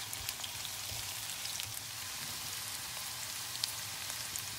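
A gas stove burner hisses steadily while vegetable curry cooks, a constant broad rush with faint crackles and no voices.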